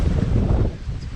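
Wind gusts buffet the microphone on a walk through Nassau in the Bahamas, a loud low rumbling whoosh that eases slightly toward the end.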